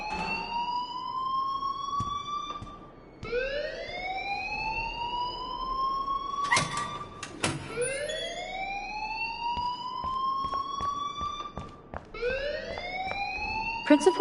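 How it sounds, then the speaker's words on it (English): A school fire alarm in the Life is Strange video game wails in repeated rising sweeps, loud and close, cycling steadily for the whole span with sharp clicks and brief voice sounds between the sweeps. "please turn off that alarm since that's your job"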